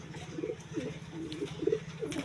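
A group of pigeons feeds on soil together, their soft, low coos rising and falling in a steady murmur over a faint hum, with no talking.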